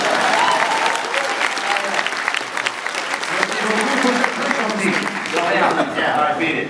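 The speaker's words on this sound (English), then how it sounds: "how about a round of applause for our weirdo tattoo from our French friend?" A convention crowd at a comic con Q&A gives a sustained round of applause and cheering, loud and continuous, with a voice speaking over the noise.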